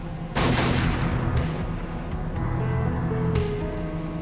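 Gunshot in the PC video game Tokyo Dark, a single loud blast with a sharp attack that decays over a couple of seconds, followed by quieter game tones and chimes.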